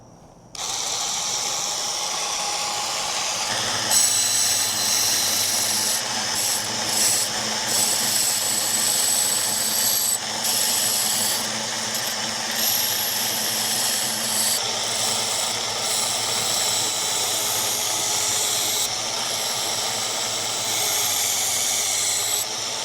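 A powered knife sharpener runs a sandpaper grit belt at a low speed setting, making a steady, loud whirring grind that goes on without a break, with brief harsher scraping surges as the blade is pressed to the belt.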